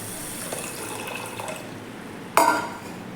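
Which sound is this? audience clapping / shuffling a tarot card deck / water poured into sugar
water poured into sugar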